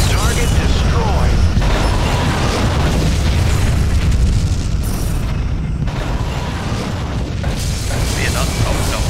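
A spaceship explodes in the space combat game Star Trek Legacy, giving a loud, sustained rumbling blast with dense low-end boom that fills the whole stretch, layered with mechanical game effects.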